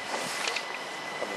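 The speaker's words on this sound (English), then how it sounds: "The train now approaching platform 11 is the 1618 Southwest train service to Guildford via Epsom." On platform 11 at Clapham Junction, a South Western train heading to Guildford via Epsom comes in with a brief, faint, broad rumble of rolling wheels, heard from the platform.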